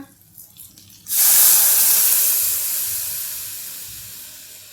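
Chana dal poured into a hot tempering of red-hot curry leaves and red chilli powder gives a sudden loud, close hiss that starts abruptly after a quiet second and slowly fades while sizzling on, with no voice over it.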